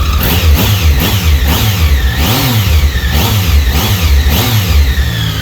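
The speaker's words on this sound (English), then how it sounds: "You're really going to hear that guttural sound to it, the growl that these have." A 2015 Triumph Speed Triple motorcycle engine revs repeatedly in rising and falling surges, a throaty growl close by with no voices.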